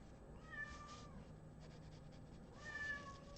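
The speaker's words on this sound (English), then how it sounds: "Leslie, go feed that cat. We're tired of it fussing" A house cat meows twice, two short drawn-out calls about two seconds apart, fairly faint against a steady low room hum.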